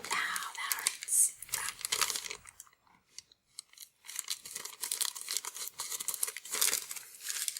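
Wish product packaging being opened by hand, with crinkling plastic and tearing bursts, a brief quiet pause midway, then more rustling and ripping, close and fairly loud.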